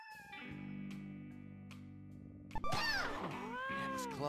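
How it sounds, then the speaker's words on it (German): A cat meows in the No More Heroes 2 video game, heard as a stretched, warbling cry over a steady synthetic game drone, with no talking. "Spielen wir mit der Katze."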